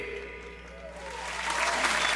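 Audience applause at an outdoor Asian food carnival stage show, a crowd clapping that swells from moderate to louder over two seconds, with music fading beneath it.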